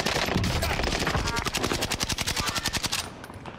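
Rapid automatic gunfire in the Warzone shooter game rattles in a fast, even burst of closely spaced shots, loud and close, before cutting off near the end.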